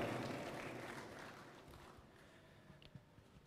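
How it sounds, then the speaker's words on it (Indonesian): Applause for senior members of the Democratic Party's high council at a party gathering, a crowd clapping that starts full and fades away over a few seconds, ending in scattered last claps. "Sekali lagi tepuk tangan kepada para senior kita, Majelis Tinggi Partai Demokrat"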